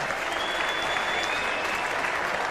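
A cricket ground crowd applauding and cheering in a dense, continuous wash of clapping, fairly distant and even throughout, with a faint tone running underneath.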